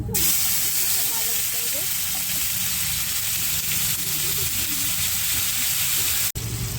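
Tomato paste hits a hot pan for a paneer and cauliflower dish, a steady loud frying hiss close at hand that holds for several seconds while a voice talks over it, then cuts off briefly at the end.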